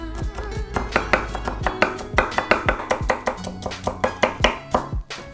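A knife julienning vegetables such as cucumber on a cutting board for Korean acorn jelly soup, giving a steady run of about twenty crisp, evenly spaced chops close up, with no talking.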